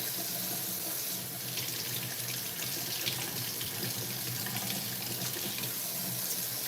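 Tap water runs steadily into a kitchen sink, rinsing food for a tofu scramble, a continuous close splashing rush that fills the whole stretch with no talk over it.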